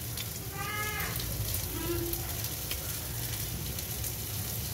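Nigella seeds (kalo jira) sizzle in hot oil over raised heat, a soft continuous frying hiss with faint clinks, a few bird-like chirps in the background.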